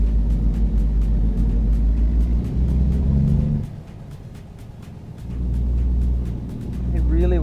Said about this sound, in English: This game is called American Truck Simulator, Mohammed.